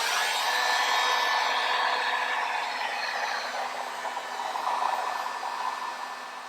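A heat gun blows steadily to warm and loosen a Chrysler 300 S emblem, giving a close, continuous hot-air roar that wavers slightly in strength and runs without any talk.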